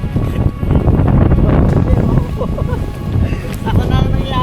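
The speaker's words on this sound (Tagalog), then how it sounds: "may malakas pa pala na hangin na darating" Strong gusting wind sweeps a mountain campsite in People's Park, Tagaytay, roaring loudly and steadily with buffeting against the microphone, while people talk and exclaim over it.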